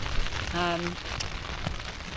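Rain patters steadily on a beach campsite with a tent, a dense hissing spatter close by, briefly overlaid by a short voiced sound partway through.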